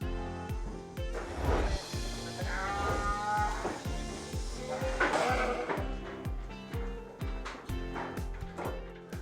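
Garut sheep bleat repeatedly on a village farm, several overlapping cries near and far over a steady rhythmic backing of music.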